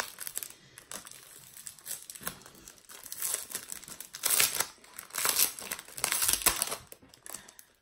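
Pale pink paper envelopes are torn and opened by hand, giving repeated close crinkling and ripping bursts that grow louder and denser toward the end, with no talk over them.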